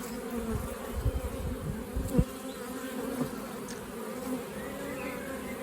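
A honey bee colony on a hive frame hums in a dense, continuous low drone, close and fairly quiet, with individual bees buzzing past now and then over the steady swarm.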